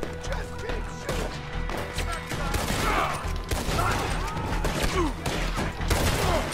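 Sustained gunfire in Red Dead Redemption 2, dense overlapping shots and impacts in a chaotic firefight, loud and continuous throughout with shouting voices mixed in.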